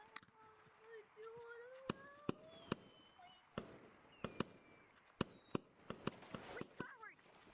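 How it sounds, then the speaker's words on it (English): Sharp firework pops and cracks in the video game Gorilla Tag burst irregularly over a quiet background, with whistling tones gliding between them and faint voices. "We literally have to wait for the fireworks to go off."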